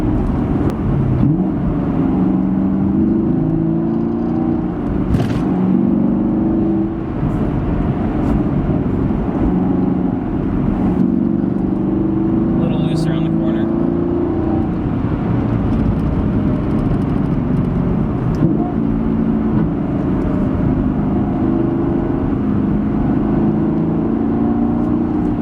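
A 2016 Chevrolet Camaro SS engine drones loudly from inside the cabin, its pitch rising and falling repeatedly as revs climb and drop while braking and downshifting, with no talking.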